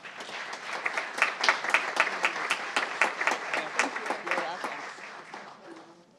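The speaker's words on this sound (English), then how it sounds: "Let's give her a big round of applause" An audience at a town council meeting applauds a student, clapping rising quickly to a lively, crackling peak of many hands, holding steady, then thinning and fading toward the end.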